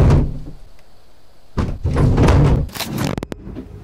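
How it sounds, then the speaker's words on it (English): A kitchen cupboard rattles and bangs as if the dishes inside are jumping around: loud clattering thumps in bursts with gaps between, ending in sharp knocks, close and without talk. "It sounds like all the dishes inside are jumping around."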